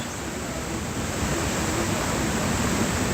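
A swollen creek in flood after heavy rain in Rize rushes past in a dense, steady roar, loud and close and unbroken throughout, with no voices.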